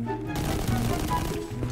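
Gunfire from a weapon in the video game Destiny 2, a dense burst of rapid shots layered over game sounds and music for under two seconds.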